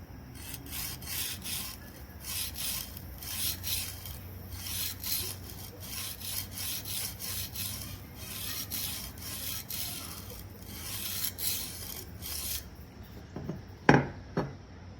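A WE Swordfin knife edge being apexed on its second side with minimal sharpening tools: steady, close rasping strokes in an even back-and-forth rhythm, ending in a sharper clink near the end.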